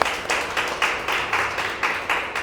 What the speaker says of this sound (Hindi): आइए जोरदार ताली, आइए सर